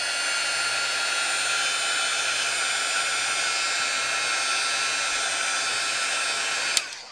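A heat tool blows steadily for about seven seconds to dry ink on a stamped craft card, a loud continuous airy whoosh that cuts off abruptly near the end.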